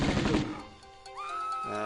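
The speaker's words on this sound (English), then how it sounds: "It's a loud gun now." Loud in-game gunfire from Tomb Raider 1 Remastered: a sharp burst of shots at the start, then fading, followed by a rising electronic tone and low rumble, close and punchy.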